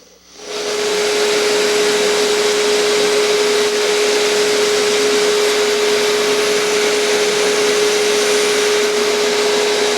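A steel knife blade held against a spinning buffing wheel for a mirror polish, a loud, steady motor whine with a constant tone and broad hiss that starts up in the first second and holds on alone.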